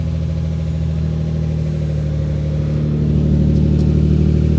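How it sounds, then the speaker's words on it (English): A Lexus SC300 engine runs at a steady idle with the clutch released and spinning, a constant low droning hum that swells slightly louder toward the end, close up. "I let go of the clutch and it starts spinning"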